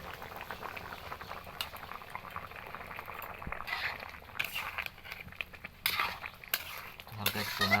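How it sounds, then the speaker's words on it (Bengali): Chicken curry with ground spice paste bubbles in a pot while a metal spoon stirs it, giving soft simmering and sharp intermittent scrapes and clinks against the pot, close up. "হালকা একটু নাড়াচাড়া করে"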